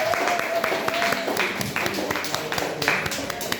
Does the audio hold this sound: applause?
yes